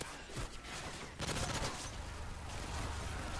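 A dense, continuous fusillade of video game gunfire hammers away at a deployed sentry, loud and unbroken throughout, with no clear talking over it.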